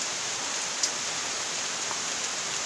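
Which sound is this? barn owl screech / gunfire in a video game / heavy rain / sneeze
heavy rain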